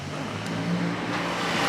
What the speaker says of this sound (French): ça c'est tellement beau la sonorité de cette voiture